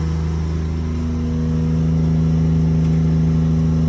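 An EnPak compressor on a 2015 Ford F-550 diesel service truck with an IMT Dominator bed runs as a loud, steady mechanical drone with a constant low hum, holding even throughout.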